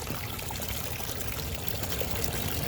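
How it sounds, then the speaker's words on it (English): Backyard pond waterfall flowing again after filter maintenance, a steady dense rush of splashing water, close and continuous. "There's my waterfall"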